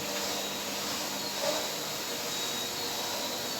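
Vacuum cleaner running steadily with an even high-pitched whirring hum, fairly faint and unchanging throughout, no speech over it.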